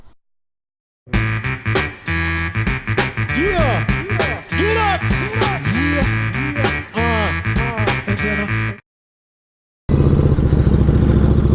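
A motorcycle starts and runs with a string of sharp revs rising and falling in quick bursts, loud and close, then cuts to silence before another steady engine drone.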